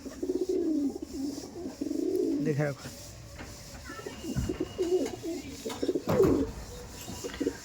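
A Kalshira pigeon pair, a ready-to-breed pair, coos close by in repeated low throaty phrases, mixed with someone talking.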